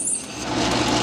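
A small lathe takes a deep cut and bogs down, its motor whining and straining with a rough, gritty hiss as the belt slips, close and fairly loud in a brief burst.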